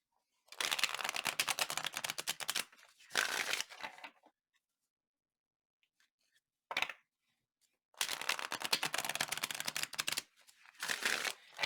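Heaven and Earth oracle card deck being shuffled in repeated riffling bursts, crisp papery flutters close up, with quiet pauses between rounds and no talking.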